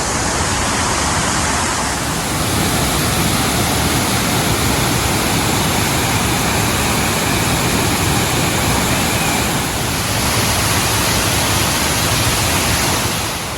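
Water rushes steadily over an old dam after recent rain in the Ozarks, a loud, continuous roar that fills the scene without pause and with no voices over it.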